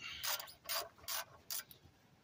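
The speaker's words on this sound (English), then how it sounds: "You're going to find whatever size socket you need. You want to loosen up that drain bolt." A socket ratchet works a car's oil drain bolt loose, with four quick, crisp clicking strokes in an even rhythm, close up and fairly quiet, with no talking.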